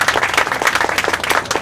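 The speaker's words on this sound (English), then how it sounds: "How about a round of applause?" An audience at a Johnny Appleseed 250th birthday celebration claps loudly and steadily in a dense, close round of applause with no voices over it.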